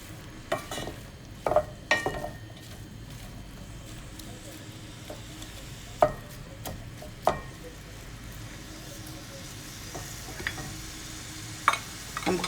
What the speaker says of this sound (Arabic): التحريك ديال البصل ديالنا بهذا الشكل